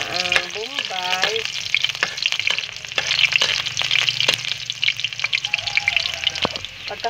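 Sliced onions sauté in a hot pan while bitter melon is being cooked, with a steady close sizzle and crackle broken by scraping stirs and sharp utensil clinks against the pan.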